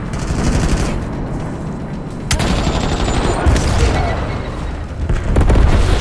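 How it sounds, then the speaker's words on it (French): Heavy napalm strike explosions with rattling automatic gunfire in the Call of Duty Black Ops 7 video game, dense booms and bursts continuing loudly throughout, with a faint radio voice underneath. "Ici Grim, envoyez le napalm."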